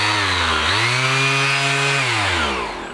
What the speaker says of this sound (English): So just going to be using circular sander.